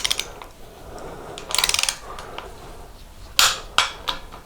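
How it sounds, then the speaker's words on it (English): A torque wrench tightens the pinch bolts on the top plate of a 1983 BMW R80ST's front forks, giving faint, brief metallic clicks and ratcheting taps in quick bursts with a couple of sharper knocks near the end. "Now I'm going to tighten up the toaster tan top plate pinch bolts to 18 foot-pounds"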